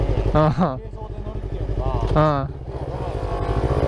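A motorcycle engine drones loudly and steadily while riding, with a rumbling low rhythm and wind noise, and a person speaks over it.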